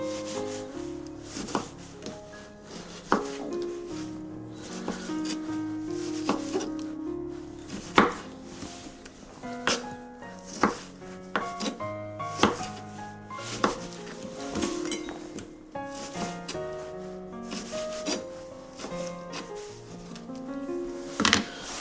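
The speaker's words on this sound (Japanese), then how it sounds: "タケノコをですね、ちょっといろんな形でカットしましてですね" A kitchen knife chops bamboo shoots on a cutting board for a chikuzenni stew, a close, steady run of crisp knocks with irregular rhythm, some quick bursts and brief pauses, with no talking.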